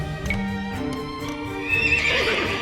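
Horse archers' horses neigh and whinny in Age of Empires II Definitive Edition, a drawn-out rising whinny over hoof clatter and a steady game backdrop, fairly loud and close.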